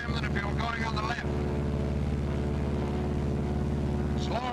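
Twin radial engines of a Martin B-26 Marauder bomber drone steadily and loudly in flight, one engine carrying the load, with someone talking over the constant cockpit roar.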